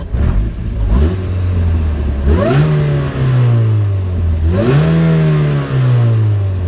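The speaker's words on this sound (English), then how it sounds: "Hear that supercharger?" A supercharged Chevy Cobalt SS engine revs up twice from a steady idle, each throttle blip rising sharply then settling back, loud and close with no talking.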